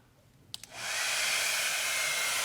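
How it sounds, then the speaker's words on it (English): A couple of clicks, then a hair dryer whooshes on and settles into a loud, steady rush of blowing air. "when I turn the hairdryer on, a fast stream of moving air is going to come out of the nozzle"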